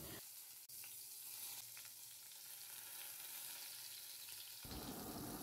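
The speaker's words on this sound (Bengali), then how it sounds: "তেলটা গরম হলে বেগুনের পেছন দিকটা করে বেগুনগুলো দিয়ে দিচ্ছি।" Brinjal slices frying in hot mustard oil in a kadai: a continuous close sizzle with a brief dip and a small clatter early on, then a shift in texture near the end.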